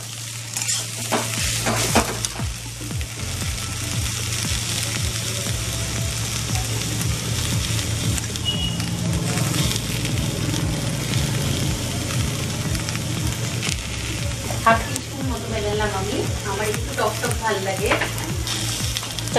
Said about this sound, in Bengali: এবারে আমি এটাকে ভেজে নেব।